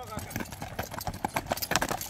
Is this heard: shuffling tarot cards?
no